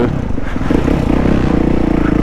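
Kawasaki KX450F dirt bike ridden in the woods, a close, loud, steady engine drone with rapid rhythmic pulsing and some rattling clatter throughout, no talk.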